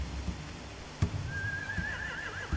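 A horse gives a single high, wavering whinny in The Walking Dead game, set over low ambient rumble and a few soft thuds, fairly close and clear with no talk.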